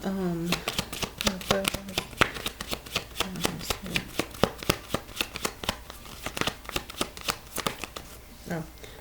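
Tarot cards shuffled by hand in a steady run of crisp riffling and tapping bursts, close and fairly quiet, with a few brief murmured voice sounds near the start and end.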